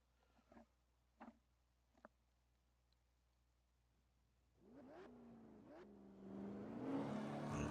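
Late model race cars at New Smyrna Speedway in iRacing start up after a few faint knocks, their engines rising from a low rumble into a swelling, revving roar that grows louder toward the end.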